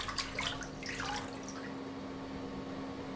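Water runs and splashes over a metal foil during a rinse in vinyl record manufacturing, a soft trickle that fades after the first second and a half beneath a steady machine hum.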